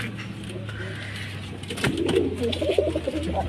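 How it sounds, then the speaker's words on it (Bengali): Young Madrasi pigeon chicks cooing softly in a coop, low murmuring coos in the latter half over a steady background hum, close by. "এইটা হচ্ছে ম্যাডাসি পায়রার বাচ্চা"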